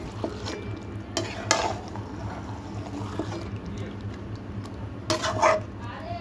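Chicken with masala is stirred in a pot, with a spoon scraping and clattering against the metal at intervals over a low sizzle, the louder strokes bunched near the start and end.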